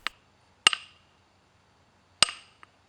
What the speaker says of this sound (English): The hammer doesn't bounce when I strike